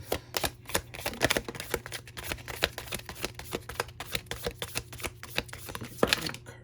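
Tarot cards are shuffled and flicked down one after another in a steady, rapid run of crisp close-up snaps and riffles over a faint background hum, with no talking.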